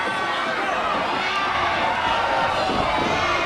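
Wrestling fans applaud and cheer in a crowd at a live event, a steady, loud wash of clapping and crowd noise with talking over it.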